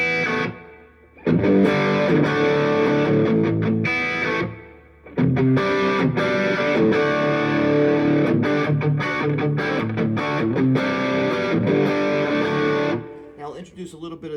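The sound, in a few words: electric guitar through overdrive pedal with reverb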